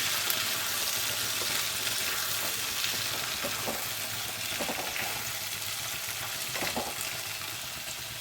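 Cauliflower stalks are stirred in a pan, a steady close frying sizzle with faint scraping stir strokes at irregular intervals and no voices.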